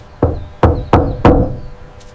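Four firm, evenly spaced knocks on a house door ring out loud and close, followed by a faint light tap near the end, with no voices.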